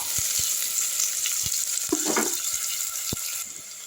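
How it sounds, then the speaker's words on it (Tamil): Onions sautéing in a pan for kurma, a steady close sizzle with occasional light scraping and stirring knocks. "வெங்காயம் அஞ்சுது நல்லா வதக்கி விட்டுடலாம் நல்லா வதங்கட்டும்"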